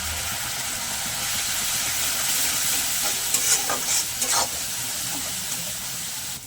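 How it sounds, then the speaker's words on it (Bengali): Spice paste with Kashmiri chilli powder and a little water sizzles steadily in a pan while being stirred, with a few spoon scrapes and clatters in the middle; up close, no voices. "এবার আমি মশলাটাকে ভালো করে কষিয়ে নেব।"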